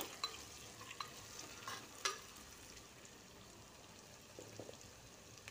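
Bay leaf and rice stirred in a Rajasthani clay pot, giving soft, faint scraping and light sizzling with a few small clinks, low and steady with no talk.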